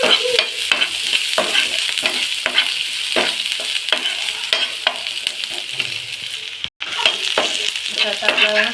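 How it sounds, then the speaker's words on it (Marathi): Finely chopped garlic and ginger fry in hot oil in a pan, a loud steady sizzle broken by frequent rhythmic spatula scrapes and stirs, with a momentary dropout near the end. "आता आपलं लसूण फ्राय झालेलं आहे मस्त"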